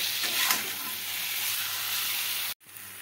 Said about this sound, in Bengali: আলু পটলটা দিয়ে মশলার সঙ্গে আমি এভাবে ভালোভাবে মিশিয়ে নেব আর নাড়তে থাকবো।